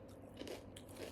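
One bite into a thick, fairly hard Sakura-flavored senbei rice cracker gives a short, quiet crunch over a soft background hiss.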